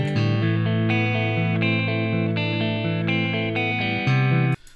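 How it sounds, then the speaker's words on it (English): A clean electric guitar plays a repeating arpeggio through a Fender amp and an attenuator. The picked notes are evenly spaced over several seconds and stop abruptly at the end. "So that's the sound of my Fender amp pretty much straight into the computer via this"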